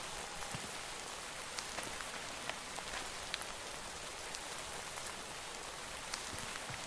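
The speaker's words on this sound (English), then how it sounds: "And we got some heavy rain coming down here now." Steady heavy rain hissing across the whole clip in the video game Minecraft with the TerraFirmaCraft mod, with scattered sharper drops tapping close by, no voices.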